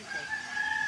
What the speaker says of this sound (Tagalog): Ang manok baka mabagsakan.